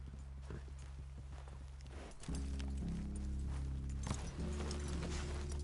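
Horse hooves clip-clop steadily on the ground in Red Dead Redemption 2 as a fast rhythmic patter under a low droning music bed that swells partway through.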